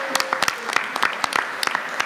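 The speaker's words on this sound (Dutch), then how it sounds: "Applaus voor onszelf." Audience applauding itself at a 2018 debate event in the Odeon, Rotterdam, with distinct sharp claps scattered through a steady round of clapping, fairly close and loud, and a faint voice briefly underneath.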